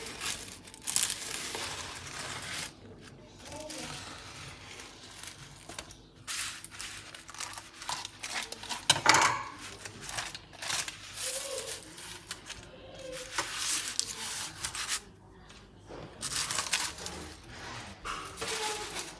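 A knife cuts down through homemade mille-feuille puff pastry with crisp crackling and crunching layers, irregular flaky crunches coming up close and fairly quiet over about twenty seconds.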